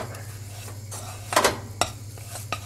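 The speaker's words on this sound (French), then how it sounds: "vous venez écraser avec votre spatule, hein, votre cuillère en bois ou votre spatule contre les parois" A wooden spoon presses choux pastry dough for profiteroles against the walls of a saucepan, giving a few scraping, knocking strokes over a steady low hum.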